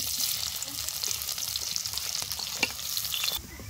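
Chopped onions fry in hot oil in a pan for a chicken curry, a dense steady sizzle with scraping stir strokes throughout, close up and without talk, ending abruptly.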